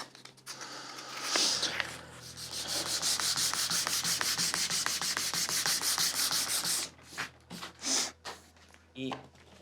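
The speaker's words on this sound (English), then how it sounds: "let's sand that down." Hand sanding on a wooden build, a steady rapid back-and-forth rasp of sandpaper on wood that runs continuously up close before breaking into a few separate strokes near the end.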